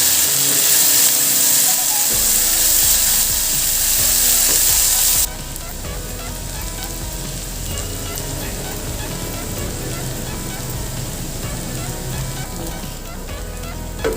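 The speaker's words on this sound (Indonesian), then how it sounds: "Itu kita ceplokin 2 buah telur ya" Two eggs crackle and sizzle loudly in hot oil in a pan while simple nasi goreng is cooked, a continuous hiss that settles to a lower, steady fry partway through.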